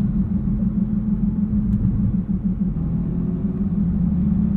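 A 2023 Nissan GT-R Premium cruising at low speed in automatic mode, sixth gear around 40 mph, gives a steady low engine and road rumble heard from inside the cabin, continuous and even throughout.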